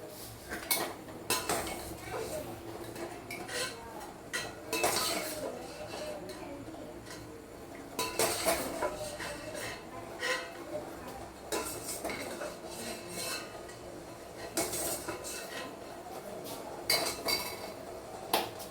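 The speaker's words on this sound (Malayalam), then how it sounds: "ഇനി നമുക്കിത് കോരിയെടുക്കാം കേട്ടോ" Metal ladle clinking and scraping against a pot in repeated bursts as boiled cauliflower is scooped out, moderately close, with some watery clatter between scoops.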